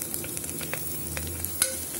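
A spoon stirs curry leaves and coriander sprigs into a coconut milk rice mixture, with soft scraping and light clicks over a gentle, continuous sizzle, close up and without speech.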